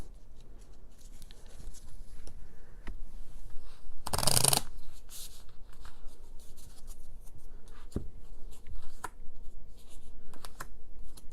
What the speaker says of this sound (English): Obviously doing only so much shuffling for brevity's sake.